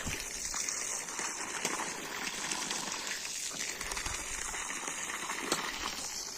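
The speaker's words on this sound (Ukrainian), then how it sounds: "Ось так прямо шланга, проводимо полив." A garden hose waters pepper plants in a vegetable bed on a hot summer day, giving a continuous soft splashing and trickling hiss, fairly close and even, with no talk.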